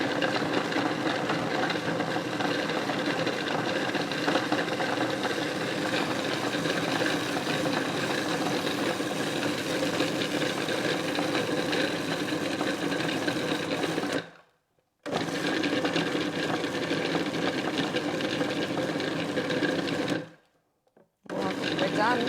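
A Magimix food processor blitzing bread into breadcrumbs: a loud, steady, close whirring runs for about fourteen seconds, cuts out briefly, starts again, then stops and restarts once more.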